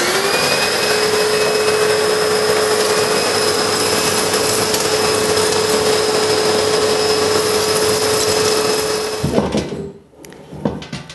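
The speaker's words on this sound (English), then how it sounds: "Just plug in your regular vacuum cleaner, switch it on, and get sucking." A vacuum cleaner with an ash separator roars at a steady high whine for about nine seconds sucking up ash, then cuts off, followed by a few clattering handling noises.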